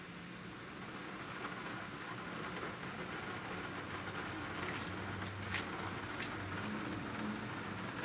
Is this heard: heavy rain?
yes